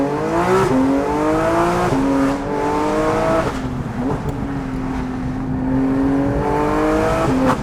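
Porsche GT3 RS naturally aspirated six-cylinder screaming on a race track, loud sustained high revs rising through gears with short dips at upshifts, close onboard and continuous.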